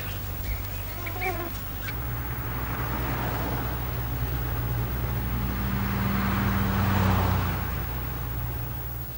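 A Fiat Panda 4x4 overtakes on an Indian road in 1985, a rising and falling engine and road rush swelling as it passes, with honking or quacking-like calls briefly early on and a low steady hum throughout.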